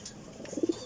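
Pet pigeons give soft, low coos that end in a few quick, throaty pulses, faint and close against a quiet background.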